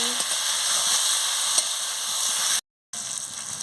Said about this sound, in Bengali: মশলার সঙ্গে ডিম আর আলু ভালো করে কষিয়ে নিচ্ছি